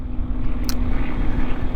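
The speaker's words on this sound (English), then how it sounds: "there's a local airport, that's why you hear planes and stuff, Butler County Regional" Near Butler County Regional airport, a plane passing overhead makes a steady low drone under broadband rumble, loud and continuous with no talk.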